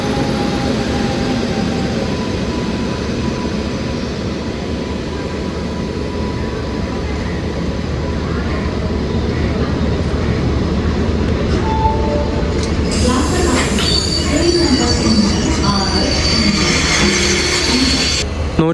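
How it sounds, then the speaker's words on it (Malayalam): The Chennai Egmore–Mangaluru Central Express rumbles in behind a WP7 locomotive, 39-446, a continuous loud rolling roar with wheel clatter and metallic clinks, rising near the end as the train passes close. "ഒരു മണിക്കൂർ 8 മിനിറ്റ് ലേറ്റായിട്ട് ചെന്നൈ എഗ്മോർ മംഗളൂരു സെൻട്രൽ എക്സ്പ്രസ് വരുന്നുണ്ട്"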